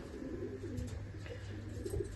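A single unpaired pigeon, one of several separated from their mates, gives soft, low cooing close by for a moment, faint and steady with no speech.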